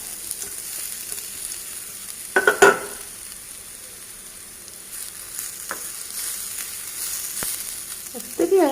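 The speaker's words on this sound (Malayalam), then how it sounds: "ഇനി നമ്മൾ അരച്ച് വെച്ച ചമ്മന്തി ഇതിലേക്കിട്ട് നന്നായിട്ടൊന്ന് വറുത്തെടുക്കാം" Ground coconut chutney fries in a pan at home, giving a soft continuous sizzle with a few sharp clinks and stirring scrapes of a spoon against the pan, and no voices.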